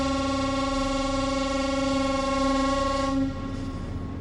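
A loud steady horn whistle sounds a warning to approaching windsurfers, one long sustained blast that holds for about three seconds before cutting off.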